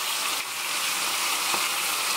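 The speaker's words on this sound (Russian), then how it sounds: "Вот так вот я буду обжаривать до румяной корочки." Large pieces of chicken browning in a pan give a dense, continuous crackling sizzle, close and steady, with no talking over it.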